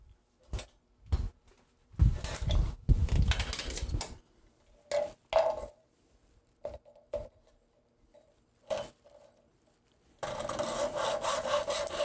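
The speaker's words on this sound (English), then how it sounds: "This is a hacksaw job." A hacksaw cuts off the end of a 3D-printed plastic part in a workshop: several bursts of rapid back-and-forth rasping strokes with short pauses between, then a sustained run of sawing at the end, close and fairly loud.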